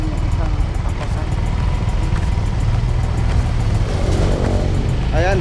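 A motorcycle engine drones steadily while riding on a road in South Cotabato with a passenger on back, the low engine hum continuous and close, with wind and some talking over it.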